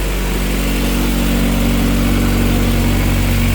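A rebuilt Honda H23A VTEC engine idles with an exhaust leak, giving a loud, steady, close rumble with a deep low drone and hissy breath on top, unbroken throughout.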